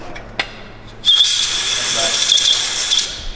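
A high-pitched drill whines steadily into a bolt in an aluminium engine, starting abruptly after a quiet moment and running continuously until the end.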